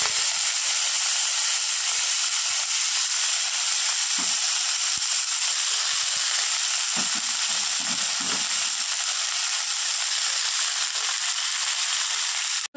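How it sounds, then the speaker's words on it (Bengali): Radish greens hit hot oil already fried with mustard seeds and sizzle in a pan, giving a loud, steady, close hiss that runs unbroken throughout, with only faint handling sounds beneath and no talk. "এবার মূলো শাকগুলো দিয়ে দেবো।"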